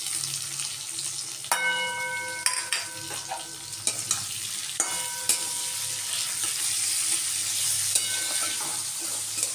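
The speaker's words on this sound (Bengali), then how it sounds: "একটু আলুটা ভেজে নিই, তারপরে আমি এর মধ্যে পেঁয়াজটা অ্যাড করে দেবো।" Potato and onion fry in a pan for a prawn and Malabar spinach chorchori, a steady close sizzle broken by sharp clinks and scrapes of a spatula stirring against the metal every second or two.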